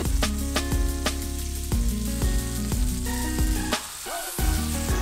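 Flour-dusted beef browning in a pan for an Irish stew gives a steady, close sizzle that runs throughout, with a softer dip near the end and tonal sounds in the background.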